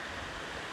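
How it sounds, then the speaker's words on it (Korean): A mountain stream runs beside a forest road, a soft, continuous babble of flowing water heard at low level with no voices. "물소리가 요란하지 않지만은 계속 끊임없이 흐르면서 좋은 곳입니다"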